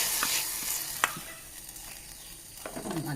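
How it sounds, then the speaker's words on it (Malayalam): Spoon scrapes and stirs through rasakalan, an Onam curry, in a pot, giving a few soft, close strokes with a faint sizzle and no talking. "നമുക്കിനി ഇതൊന്ന് ഇളക്കി കൊടുക്കാം"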